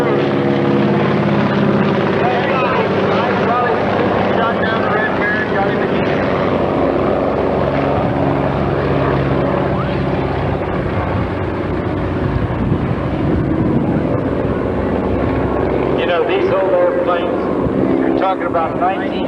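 Vintage propeller airplane from about the 1930s performing at a 1995 airshow, a steady loud engine drone throughout with a public-address announcer talking over it.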